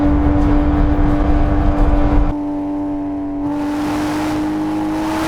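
A Toyota Supra Mk5 engine driven hard at speed roars loudly with a steady high drone, then drops to a lower, smoother cruising hum partway through, heard close from inside the car.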